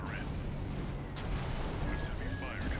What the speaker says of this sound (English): With these cannons shooting at me